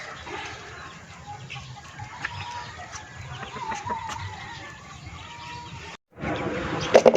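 Several chickens cluck and murmur nearby on a farm, alongside ducks, in a steady, overlapping chatter, with a few louder squawks toward the end.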